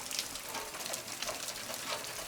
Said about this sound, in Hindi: बहुत ज़्यादा भयंकर बारिश है।